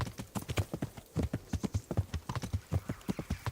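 Horse hooves on a path in the medieval video game Kingdom Come: Deliverance, a steady, rhythmic clip-clop of a walking or trotting horse, quiet and alone.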